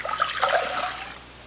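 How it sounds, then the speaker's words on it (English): Water pouring into a saucepan on a stovetop while making spiced simple syrup, a steady close trickling splash lasting about a second and a half, with no talking. "to the saucepan you'll add 1 cup of water"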